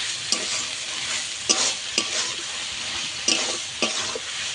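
Elephant foot yam stalks and prawns are being sautéed in a pan, with a steady sizzle and several sharp scrapes of a spatula stirring at irregular intervals, with no talk.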